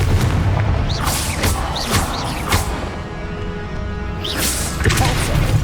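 Confringo blasting spells exploding during a Hogwarts Legacy duel, a dense run of heavy booms and whooshing bursts layered over continuous loud battle noise.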